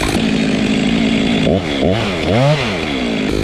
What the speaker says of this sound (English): Shut the saw off